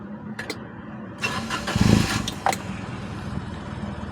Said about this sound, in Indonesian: Ya, mesin nyala,